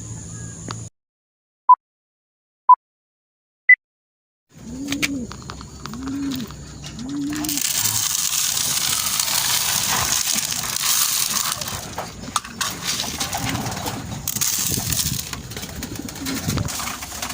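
Racing pigeons coo at their loft in three low rounded calls near the start, with a few thin bird chirps before them, then a steady outdoor rustle and scattered clatter of birds settling.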